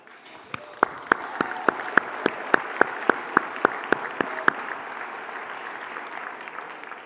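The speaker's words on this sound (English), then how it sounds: "Please be ready to clap." Audience at a fundraising gala claps in sharp, evenly spaced beats, about fourteen in a row, loud against a steady crowd murmur before the clapping fades out.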